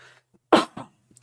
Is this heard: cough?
yes